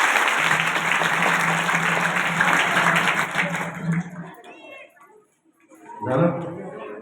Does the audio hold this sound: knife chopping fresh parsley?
no